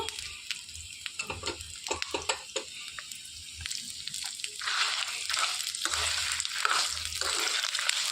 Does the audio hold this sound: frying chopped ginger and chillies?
yes